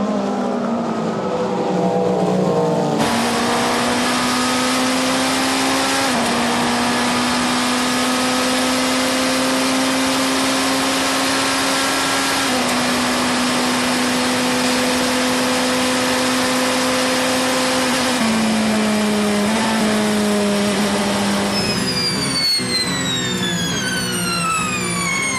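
Ferrari race cars at the 24 Hours of Le Mans roar past one after another, loud sustained engine notes shifting pitch as each car passes, ending with a rising upshift whine close by.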